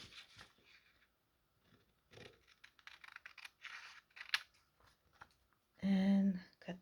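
Scissors snip through tracing paper in short, quiet cuts and rustles, followed by a louder burst of noise near the end.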